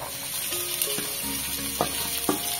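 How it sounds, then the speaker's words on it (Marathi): Finely chopped onion with ginger and garlic frying in a pan, a close, even sizzle with a few quick scrapes of a spatula, while background music plays underneath. "कांदा चांगला सॉफ्ट होईपर्यंत आपण परतून घ्यायचा आहे।"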